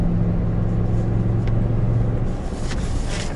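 A 2020 Lexus GX460 driving in sport mode through corners, a steady engine and road rumble close by with a faint hum under it, and no one speaking.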